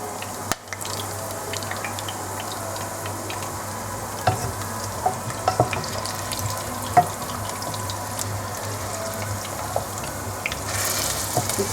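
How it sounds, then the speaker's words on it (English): Potatoes fry in oil for a Kenyan pilau, a soft continuous sizzle with scattered pops and crackles, fairly close and steady, with a brief clatter near the start. "now I'll frying my potatoes in the oil, because they take long to cook,"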